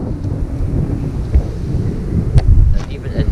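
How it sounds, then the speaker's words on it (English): Gusty wind rumbles against the microphone in low, uneven bursts, with a few faint clicks and rustles. "It is pretty windy too."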